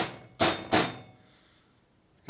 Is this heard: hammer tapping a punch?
yes